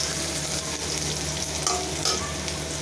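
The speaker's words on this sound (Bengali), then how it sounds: "পেঁয়াজটা বসাই দিচ্ছি।" Onions frying in oil in a pan make a loud, continuous close-up sizzle with a light hiss and occasional crackling pops, no voices.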